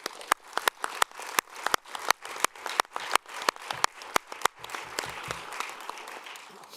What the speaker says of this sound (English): Let's just give a round of applause for them